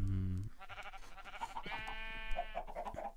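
Minecraft sheep give a few short, nasal bleats in quick succession, fairly close and clear, with no talking over them.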